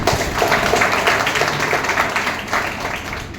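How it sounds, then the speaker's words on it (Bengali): An audience at a business success-story event applauds, a dense, continuous patter of many hands clapping at once, fairly loud and sustained across the whole stretch. "আপনাদের সকলের জন্য জোরে হাততালি হয়ে যাক।"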